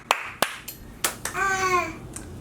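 A handful of sparse, distinct hand claps sound at uneven intervals, with a brief voiced tone rising in the middle and a quiet background hum.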